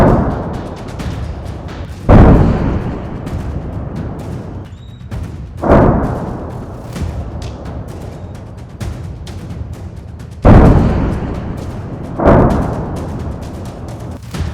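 Four heavy booms of artillery or rocket fire in the Israel-Hamas-Hezbollah conflict, each a sharp blast with a rolling tail, spaced a few seconds apart over a constant rumbling background.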